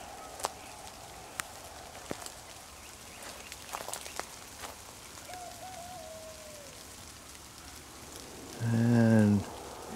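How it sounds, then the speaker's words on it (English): Light rain falling outdoors at night, a soft continuous patter with scattered drop taps, with a brief faint bird note and a low rumble near the end. "Starting to rain"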